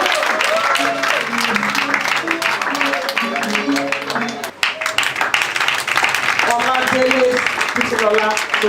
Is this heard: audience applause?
yes